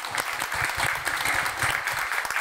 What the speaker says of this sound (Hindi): आपकी फैमिली के लिए जोरदार तालियां